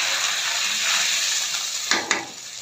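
Onions partly fried in a pan for a tomato chutney with fish give a steady, loud sizzle, and two brief sharp hisses or clinks come near the end as water goes in.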